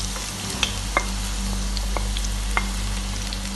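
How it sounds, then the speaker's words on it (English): Onions dropped into hot oil sizzle steadily and fairly loudly, with a few sharp spatters and clicks popping through a constant frying hiss. "So now our oil is hot. We'll add the onions."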